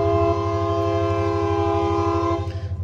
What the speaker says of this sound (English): Excuse me, here come a train.